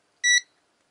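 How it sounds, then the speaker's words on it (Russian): A ZOYI ZT-X multimeter gives a single short, bright electronic beep on power-up, close and clear against near silence. "И, смотрите, пикает."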